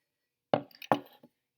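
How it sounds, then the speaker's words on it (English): A clean glass jar being handled for a bean-sprouting project: two sharp, close clinks about half a second apart, each with a short rattling tail, followed by a faint tap, with silence before. "So I have my glass jar."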